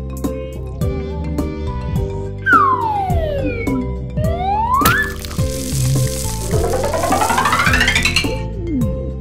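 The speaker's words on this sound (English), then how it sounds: "black, police car." Cartoon police car siren rising and falling in sweeping wails over a bouncy children's music backing, fairly loud and continuous alongside other playful sound effects.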